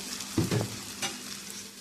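Maida flour batter poured onto a hot tawa, a brief soft thump and splash followed by a light, close sizzle that fades as it settles, with no voices.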